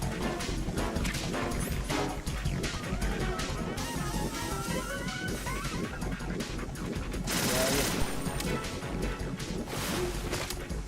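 M4 assault rifle gunfire in Metal Gear Solid 2 HD, bursts of shots buried in a dense, loud mix of game effects, crashes and voices running throughout.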